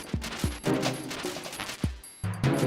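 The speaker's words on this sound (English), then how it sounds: "M4 isn't even useful right now. It's too loud." Several separate gunshots from an M4 rifle in a video game, each a sharp crack with a low thump, spaced irregularly among fainter game sounds and quiet gaps.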